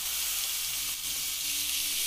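Ginger and onion sizzling in hot cooking oil, a loud, steady, close crackling hiss that fills the whole stretch without pause.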